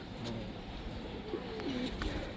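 Pigeons coo softly in a loft in low, rolling calls, several overlapping murmurs against a steady background hum, fairly close by.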